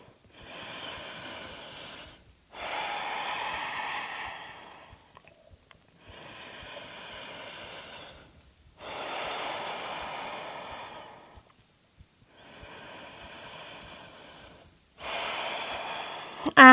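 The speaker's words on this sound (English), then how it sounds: "Take 3 deep breaths here." Deep, slow breaths during an advanced vinyasa yoga flow, five long inhale-exhale cycles of a few seconds each separated by brief pauses, close and breathy with a nasal edge, no talking.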